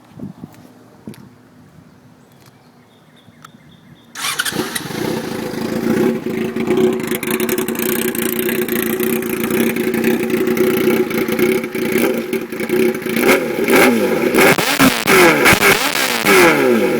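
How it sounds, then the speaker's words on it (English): A Yamaha R6 motorcycle with an M4 straight-pipe exhaust and no baffle starts after a few quiet seconds, then idles loud and close before being revved hard several times. "But I'll start it up and let you hear it."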